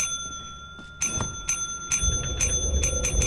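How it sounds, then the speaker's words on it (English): A bell rung repeatedly in the video game Lethal Company, bright metallic dings struck again and again in quick irregular succession, close and clear over a low rumbling background. "you have to ring the bell"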